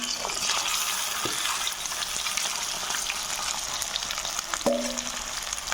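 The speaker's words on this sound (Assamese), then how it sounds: "মাংসটো এতিয়া অলপ দেৰি ফ্ৰাই কৰি ল'ম" Chicken meat with onion frying in hot oil in a wok, a constant, close crackling sizzle with occasional louder spits and stirring scrapes, no talk.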